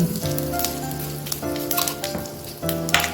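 Cumin seeds, whole spices and two bay leaves sizzle in hot oil in a home kitchen pan, a steady close frying hiss with brief crackling bursts and soft clinks, no voices.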